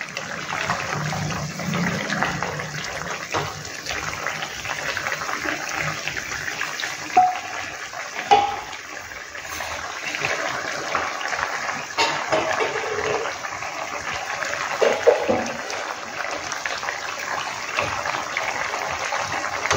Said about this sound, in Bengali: মাছটা দিয়েছি, একটু ফুটতে হবে